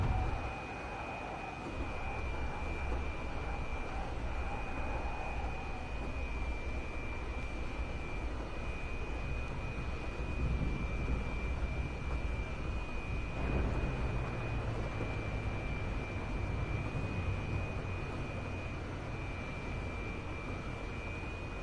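An Su-27 jet landing in the DCS flight simulator game, a steady engine roar with a high constant whine throughout and a low rumble that builds after touchdown, no talk.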